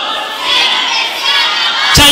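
A church congregation at a sermon in Pacapox lets out a loud, sustained burst of shouting and cheering that ends in a sharp, loud crack.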